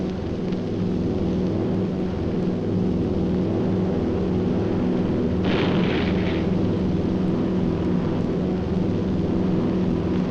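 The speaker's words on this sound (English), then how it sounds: "the enemy knows the path of your approach and walls that path with a flak barrage, but you fly right through it" Flak barrage bursting around a B-17 bomber in flight, a heavy, steady engine drone with a sharp loud burst near the middle and faint distant thuds, no voices.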